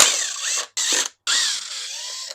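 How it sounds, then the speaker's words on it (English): A hand ratchet backs out 10 mm bolts on a 5.3L engine during teardown, making loud, rapid close clicking bursts in three runs separated by short silent pauses. "So just take these 10 mil bolts out."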